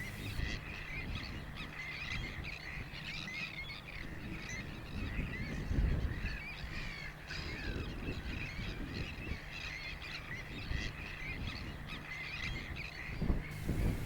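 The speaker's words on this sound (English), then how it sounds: "A colony of sandwich terns were breeding on the reserve." A breeding colony of sandwich terns on a reserve at an old mining site calls continuously, a dense chorus of harsh, grating cries from many birds at moderate distance.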